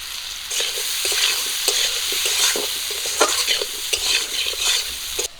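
Spices with turmeric and salt sizzle in a hot pan while a spoon stirs and scrapes, giving a close, continuous fry broken by irregular scraping bursts.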